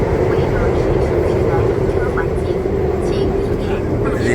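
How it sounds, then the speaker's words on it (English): Continuous rumble of a Seoul subway train ride on a Monday, a steady loud low roar of wheels and motors heard from inside the car throughout. "This is your train on a Monday in Seoul"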